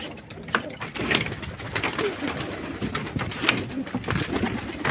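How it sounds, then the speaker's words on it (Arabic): Pigeons cooing and fluttering as a flock is released from a loft, a dense busy mix of soft coos and wing noise throughout, with no talk. "هفرجكوا على الحمام وهو بيطلع اهو"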